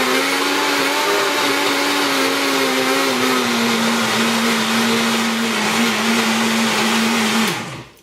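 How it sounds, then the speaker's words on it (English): A blender whirs steadily as it mixes chilli Yorkshire pudding batter, a loud continuous motor hum with a slight drop in pitch midway, then spinning down abruptly at the end; no talking. "So it's lid on the blender, and we'll begin."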